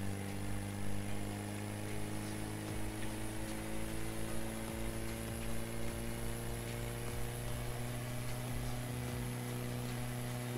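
A car engine in the GTA RP video game makes a steady, humming, tonal drone. It sounds fairly quiet and constant throughout, with no speech.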